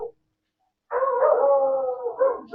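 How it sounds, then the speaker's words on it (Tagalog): A dog at a cemetery at dusk gives a short bark, then a sustained, wavering howl lasting over a second, fairly close and clear, with no talking. "May aso dyan eh."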